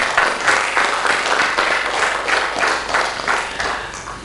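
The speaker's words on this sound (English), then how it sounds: "A big round of applause for Shri Firoz Abbas Khan" Steady, dense audience applause at a film festival event for a theatre figure, loud and sustained with rolling swells, no talking over it.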